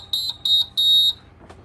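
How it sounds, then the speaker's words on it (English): A sublimation heat press sounds its finish alarm: three loud, high-pitched electronic beeps, the last one held longer, followed by a brief faint click. "it's ready to come out as soon as it beeps"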